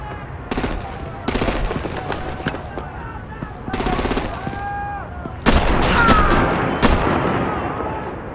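Bursts of automatic gunfire in the Batman The Enemy Within video game rattle out in several loud, close volleys separated by short gaps, with a heavier blast near the end and voices speaking between the shots.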